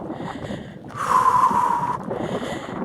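Heavy, rough breathing after a climb, close to the microphone, with one long forceful exhale standing out in the middle.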